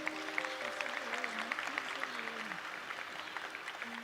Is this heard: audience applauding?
yes